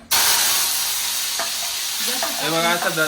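Tomatoes drop into hot oil with a sudden loud burst of sizzling that keeps hissing steadily, then stirring scrapes join in toward the end.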